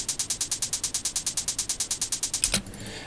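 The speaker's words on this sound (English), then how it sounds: "Now the closed hats, they sound like this." Closed hi-hats from a trance track tick in a fast, steady sixteenth-note pattern, bright and crisp with no other sound, then stop abruptly and leave a faint noisy tail.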